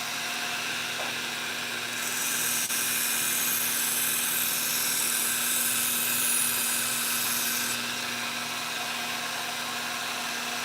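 A belt grinder runs a 6000-grit polishing belt against a forged kitchen knife, a steady motor hum joined by a bright hissing whine of steel on the belt for several seconds before the contact stops.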